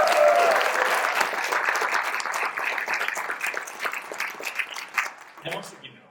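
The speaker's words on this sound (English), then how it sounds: "I think you all deserve a round of applause" An audience at an evening of Irish music and poetry applauds steadily for about five seconds, dense clapping that fades near the end as a voice comes in.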